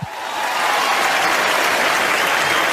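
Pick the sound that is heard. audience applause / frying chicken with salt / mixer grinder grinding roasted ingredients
audience applause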